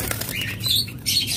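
Caged pet lovebirds and budgerigars kept for breeding let out a few sharp, high squawks and chirps nearby in a short, busy burst.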